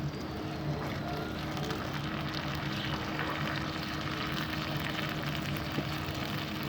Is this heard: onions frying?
yes